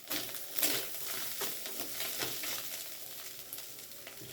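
Spices and chopped ginger sizzle and crackle in hot oil in a pan, with brief stirring scrapes breaking through the steady, close frying hiss.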